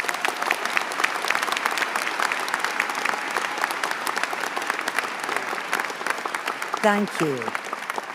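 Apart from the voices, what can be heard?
audience applause for graduating law class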